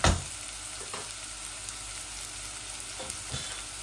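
Onion frying in a pan with ginger and garlic, a steady close sizzle with occasional stirring scrapes and no voices.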